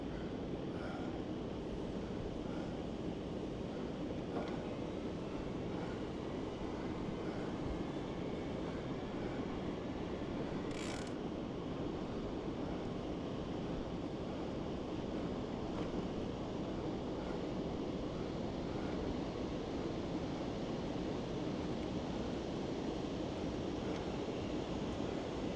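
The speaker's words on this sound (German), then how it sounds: "Und da rauscht richtig Wasser runter." Water rushing down a river weir along the Maas, a constant loud broadband roar that stays even for the whole stretch with wind buffeting mixed in and no speech.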